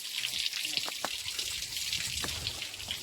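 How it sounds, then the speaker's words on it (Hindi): A year-round waterfall in the Chitrakoot forest, a steady broadband rush of falling water with faint scattered splashes. The sound stays constant across the whole stretch and is moderately distant. "देख लीजिए फिर से एक बार झरना। झरना 12 महीने चलता रहता है।"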